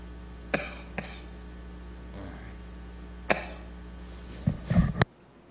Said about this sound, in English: when I cough, you also cough and everybody coughs.